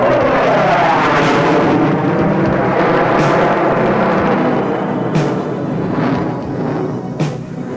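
A Danish two-seat General Dynamics F-16 fighter jet roars loudly and steadily overhead, its broad engine rumble and whine continuous with a slowly shifting pitch as it passes.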